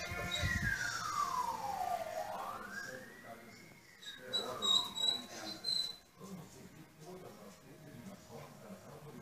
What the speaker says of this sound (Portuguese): Acordei com esse som, ó. A sirene, tá vendo?